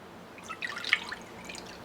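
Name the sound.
pouring vegetable broth into a bowl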